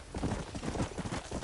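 A horse clip-clops along at a steady trot in Red Dead Redemption, the hoof beats dense and continuous over a brief stretch, close and fairly loud against a busy game mix.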